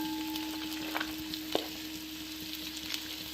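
Ginger and green chillies frying in coconut oil in a pan for Kerala-style duck curry, a quiet steady sizzle with a few soft stirring clicks, close by and with no talk.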